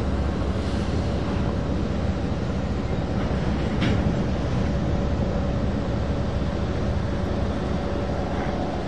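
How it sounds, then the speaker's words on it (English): A CSX grain train rolls steadily past close by a feed mill, a loud continuous rumble of railcars with faint clatter and some wind buffeting the microphone. "CSX going by the Pilgrim for Bride feed mill sign"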